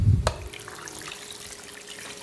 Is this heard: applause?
no